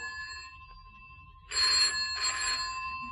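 A telephone rings in an empty house, two close bursts of bright electric bell ringing over a faint steady tone and low room hum.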